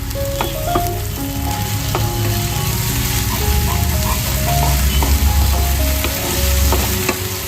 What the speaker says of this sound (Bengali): আমি ভালো করে একটু কষিয়ে নেবো যাতে আদা রসুনের গন্ধটা না আসে